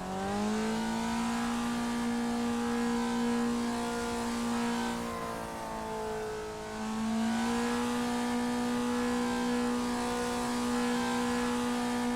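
A race car in a racing video game runs practice laps, its engine holding a loud, steady high whine, briefly dipping in pitch as it eases off before climbing back to a sustained drone.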